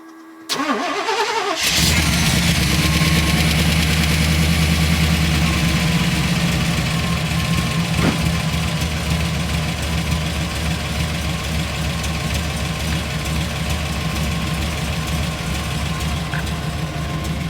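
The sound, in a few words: 350 V8 4x4 van engine starting and idling, MagnaFlow muffler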